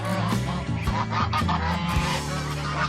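Geese honk loudly and repeatedly at close range as the mother goose, Pink, enters among her goslings, the harsh calls overlapping continuously with no talk.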